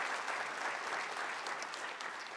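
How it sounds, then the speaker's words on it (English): Church congregation at a Sunday service applauding, a steady wash of many hands clapping at moderate distance, with faint murmurs and the odd cheer mixed in. "let's just give a round of applause for what God is going to do"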